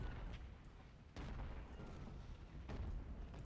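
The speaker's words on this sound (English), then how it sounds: "So with this artillery hitting them from behind" Artillery fire in the Civil War strategy game Ultimate General: Civil War, distant low booms rolling under a rumbling battle backdrop, with a couple of sharper thuds standing out.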